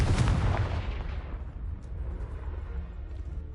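Confringo blasting spell cast in Hogwarts Legacy: a loud booming burst at the start that rumbles and fades over a few seconds, with no talk.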